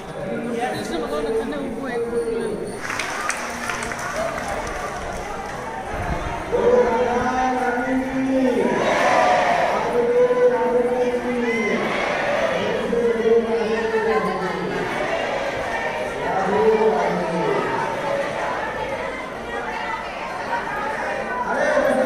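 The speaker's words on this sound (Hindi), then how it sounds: "सभा मंडप से बाहर बरामदे तक भीड़ हो गई है।" A crowd packs a temple assembly hall in Nandgaon or Barsana, with steady overlapping chatter and murmur throughout and a few voices rising above it.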